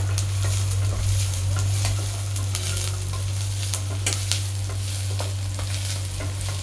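Masala and onions browning for pudina rice sizzle loudly in a pan, with frequent scraping stirs over a steady low hum, close and continuous with no talking.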